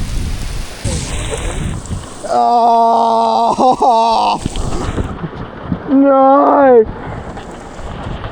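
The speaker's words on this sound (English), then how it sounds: "It's raining." Torrential rain pours outdoors at a mountain bike reserve in Douglas, a steady broadband wash running throughout, with people talking and exclaiming over it.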